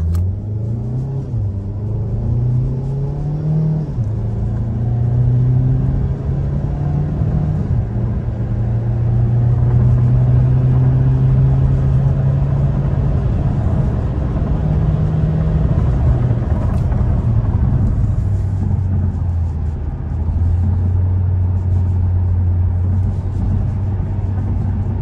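A 2013 Ford Focus accelerating repeatedly while scrubbing the clutch, its engine drone rising and falling in pitch across several pulls, loud and close from inside the car.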